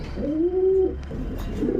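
A pigeon gives a single soft, rolling coo close by, followed by a quieter murmur, with no talk.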